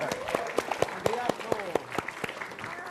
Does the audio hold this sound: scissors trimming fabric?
no